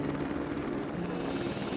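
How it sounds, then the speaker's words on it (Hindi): Steady rotor and engine drone of a nearby helicopter, constant and fairly loud throughout, with no pauses. "ये हेलीकॉप्टर।"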